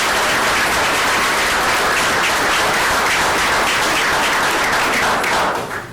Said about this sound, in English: So if we just want to give her a round of applause for...